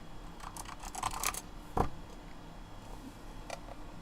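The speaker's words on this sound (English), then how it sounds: "I'm typing in the wrong thing" Typing on a computer keyboard while playing a text adventure game, a sparse run of quiet key clicks in short bursts with one sharper tap midway, close and faint over a low room hum.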